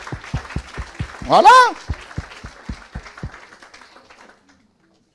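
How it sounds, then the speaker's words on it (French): A church congregation claps in steady rhythmic unison, about a dozen even claps with a brief burst of cheering midway, then the clapping fades out. A voice speaks briefly. "on acclame le Seigneur pour eux"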